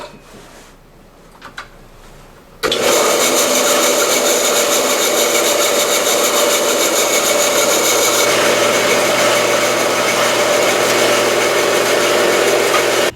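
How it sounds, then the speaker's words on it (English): A bandsaw cuts through a metal bushing for a rotary tumbler roller, a loud, steady grinding buzz that starts abruptly after a quiet moment and runs continuously to the end, with no talking. "I'm back at the bandsaw to part off this bushing"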